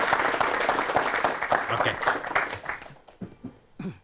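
A talk-show studio audience applauds as a guest arrives, dense clapping that tapers off after about three seconds, followed by a short spoken word and a few scattered claps.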